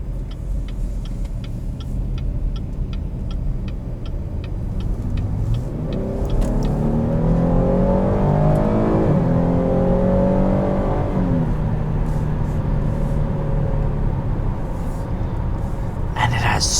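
A 2020 Chevrolet Blazer RS engine pulls hard under acceleration from inside the cabin, a steady drone rising in pitch through the gears, loud and continuous over road and tyre noise.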